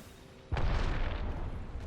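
A grenade explosion in the Apex Legends video game: a sudden booming burst followed by a sustained rumbling roar that carries on to the end.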